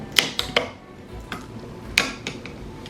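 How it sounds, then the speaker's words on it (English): Metal needle-nose pliers prying a paint can lid open, a run of sharp metallic clicks and taps spaced irregularly, close and fairly crisp against quiet room background. "Oh, also, you can use your needle nose."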